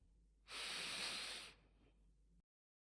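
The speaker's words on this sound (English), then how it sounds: "Take another deep breath in" A deep, slow breath drawn in through the nose during a guided mindfulness relaxation, a steady airy hiss swelling for about a second, close and quiet, then fading into soft room noise.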